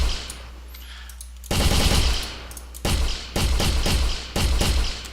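Bursts of video game gunfire after the fire mode is switched: a brief quiet pause, then four rapid automatic bursts of loud, close shots separated by short gaps.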